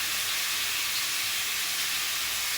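Meat stir-frying in a pan for a Sichuan stir fry with broccoli and cashews, a steady bright hiss of sizzling fat filling the whole moment without pause, close and fairly loud, no voices.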